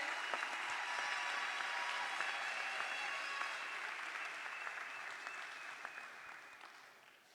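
A large audience at a prize-giving ceremony applauds a student as she steps forward, a dense, steady wash of clapping that holds for several seconds and slowly fades toward the end.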